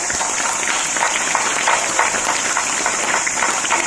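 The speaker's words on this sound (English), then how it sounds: "Clap for them" An audience of schoolchildren at a Gandhi Jayanti prize distribution applauds in a dense, even patter of clapping that holds steady throughout, with a thin high steady tone running beneath it.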